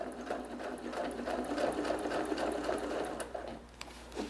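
Sewing machine stitching a quilt along a straight ruler near the quilt's edge, a steady fast mechanical whirring hum running continuously and close by, with faint clicks near the end.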